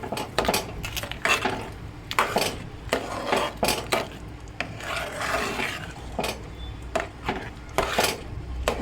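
A spoon scrapes and rasps against a pan as a halva's sugar mixture is stirred while it cooks, giving repeated uneven strokes with clinks of metal, close and fairly steady throughout.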